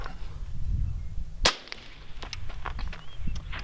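A single .224 Valkyrie rifle shot fired through a 30-caliber suppressor, a sharp crack standing out from outdoor background noise, followed by a few faint clicks and rustles.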